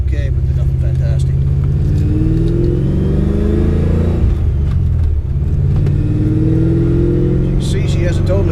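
A 1995 Ford Mustang GT V8 with an aftermarket exhaust rumbles loudly at close range, revving up and dropping back once midway before climbing again in a deep, burbling drone.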